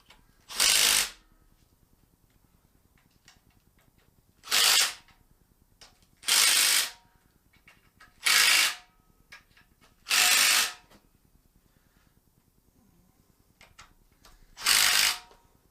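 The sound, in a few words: Milwaukee ratchet tightening engine bolts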